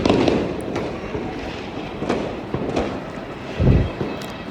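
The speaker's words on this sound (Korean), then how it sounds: "끊임없이 폭죽을 터뜨리고 있다" Firecrackers go off continuously during Chinese New Year celebrations in Malaysia, a dense run of cracks and pops at varying distances with a louder burst near the end and no talk.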